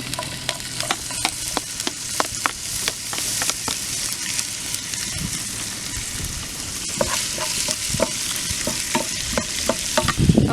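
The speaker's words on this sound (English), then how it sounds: "I'm going to saute next on my onion, and then my ginger" Onion and ginger sautéing in a pan, a continuous close sizzle broken by frequent sharp clicks and scrapes of a utensil stirring, busy and steady throughout with no talk.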